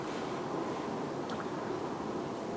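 Strong wind blows in the Haute-Savoie mountains near Mont Blanc, a steady, broad rushing roar that holds without a break.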